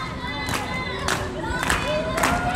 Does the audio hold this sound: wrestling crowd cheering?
yes